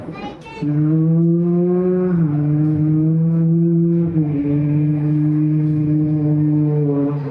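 At a school inter-house cultural competition, a person hums a long, steady droning note imitating a motorbike engine, close and loud, with slight pitch dips like gear changes.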